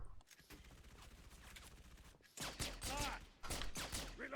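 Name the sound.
gunfire in the video game Halo 3 ODST Firefight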